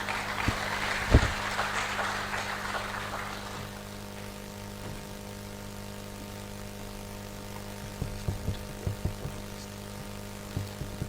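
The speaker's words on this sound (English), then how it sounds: "A big round of applause as he walks." Applause from an audience at a financial strategy launch event in Malawi swells at the start and fades within a few seconds, followed by quiet room hum and a few scattered knocks.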